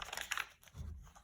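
Glassine paper pages of a handmade, hand-sewn junk journal crinkle and rustle softly as they are handled, a few brief crisp crackles close up and quiet, with no voices.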